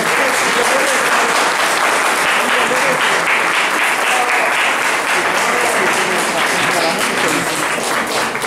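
Audience at a foundation's year-end closing event giving the performers a loud, sustained round of applause that keeps an even level throughout, with some voices faintly mixed in.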